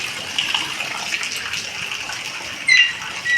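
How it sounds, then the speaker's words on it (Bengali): Heavy rain pouring down during monsoon weather, a continuous hissing wash of water with a brief louder gush near the end, no voices. "প্রচুর বৃষ্টি হচ্ছে,"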